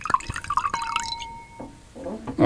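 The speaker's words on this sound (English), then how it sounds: "Pour that in front of the microphone." Wine is poured into a glass, a short, close trickle and splash with bright ringing glass tones that rise as it fills and then trail off.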